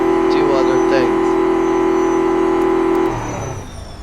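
A high-revving supercar engine in the Automation car-building game holds a loud, steady drone for about three seconds, then the revs drop and the sound fades.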